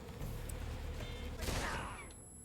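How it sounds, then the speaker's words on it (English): Grenade going off in the Metal Gear Solid Delta video game, a sharp blast burst that swells briefly over low background game sounds and then fades, with a faint metallic ringing tone trailing after. "And then I think I can just toss a grenade at him, right?"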